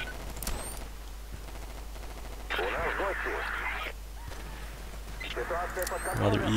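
Distant rifle fire and battle noise in Battlefield 2142 on the Tunis map, with scattered shots and bursts under radio-like chatter and a constant low hum.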